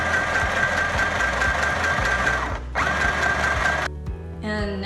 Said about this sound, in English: And now sew around the mask.